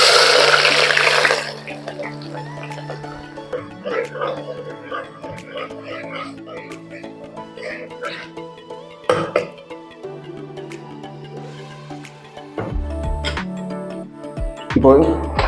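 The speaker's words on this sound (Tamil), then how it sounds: "எண்ணெய் இப்போ சூடாயிடுச்சு. ஆனியன் போட்டுக்கலாம்." Chopped onions drop into hot oil in a pan with a loud, close sizzling hiss at the start that quickly fades to a soft crackle beneath a person talking.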